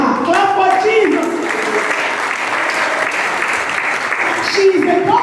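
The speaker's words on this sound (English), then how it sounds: "Clap for Jesus." Loud, full applause rises from the audience at a women's conference in Calgary, continuous clapping with a voice speaking over it at the beginning and again at the end.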